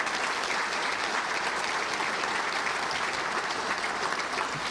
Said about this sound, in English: Let's give you a round of applause for all the great work you do in the community